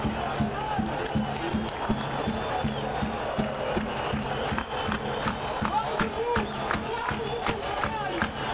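Football supporters at a Corinthians versus Palmeiras semifinal in a packed stadium chant together, a loud, steady roar of many voices with rhythmic claps and shouts swelling throughout.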